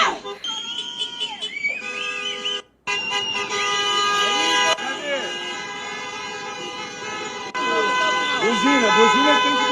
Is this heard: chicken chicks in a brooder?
no